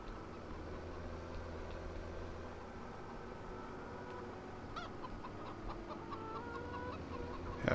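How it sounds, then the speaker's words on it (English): Chickens clucking in the farming video game Farm Sim 17, soft scattered clucks over a constant low engine-like hum, moderately distant and fairly quiet, with no talk. "Happy little chickens."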